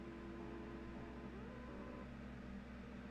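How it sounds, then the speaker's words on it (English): An electric fan blowing straight into a microphone gives a steady, faint whooshing rumble with a low hum, unbroken and even throughout, with no voices. "I got a fan just blowing into the mic."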